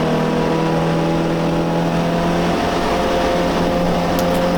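An MGB racing car's engine droning steadily at high revs while lapping the Silverstone GP circuit in a classic race, a loud, continuous in-car roar held in one gear with no pauses.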